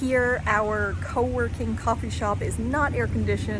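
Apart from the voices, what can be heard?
No everyday noise stands out behind the speech.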